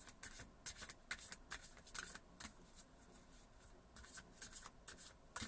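Quick, papery riffles of tarot cards being shuffled close by, coming in short bursts with brief pauses between them, quiet overall.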